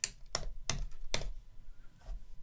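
Keys clack on a computer keyboard as a command is entered in MATLAB, four sharp, evenly spaced keystrokes followed by a fainter fifth, close and alone with no talking.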